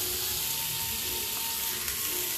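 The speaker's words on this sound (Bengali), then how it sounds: "এবার একটু নেড়ে এর মধ্যে দিয়ে দেবো গাজর কুচানো" Momo stuffing of chopped onion and carrot sizzles steadily in a hot pan, a close, soft continuous frying hiss with faint stirring scrapes and no talk.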